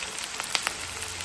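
Onions frying in oil for a Nepali-style local chicken soup, a soft steady sizzle with a few brief crackling pops, heard alone and close.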